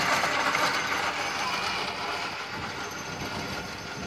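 A homemade AC electric go-kart rolls along with a child aboard, giving a steady mechanical whirring and rattling drone close by that holds evenly throughout.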